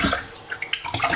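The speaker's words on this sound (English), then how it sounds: "We wash the rice" Water splashes and trickles as rice is rinsed in an ordinary cooking pot, a close, continuous wet swishing with brief louder sloshes.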